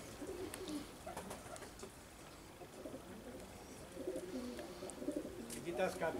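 Fancy luxury pigeons cooing softly in a loft, low murmuring coos repeating under quiet background noise and some faint talk.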